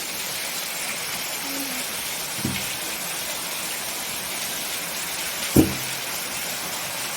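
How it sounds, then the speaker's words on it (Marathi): Rainwater runs and gushes in a steady, close rushing stream during a downpour, with a couple of brief knocks and a faint short vocal sound over the flow. "बघा पाणी किती वाहतंय"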